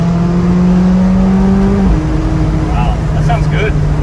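McLaren 570S Spider with a titanium exhaust revving on the road, a loud tonal engine note climbing then dropping sharply at a gear change before building again, with brief chatter near the end.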